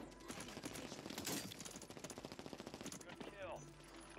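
Rapid, sustained light machine gun fire in a Call of Duty Rebirth Island match, a dense rattling burst of shots running steadily for several seconds before tapering, with faint game sounds underneath.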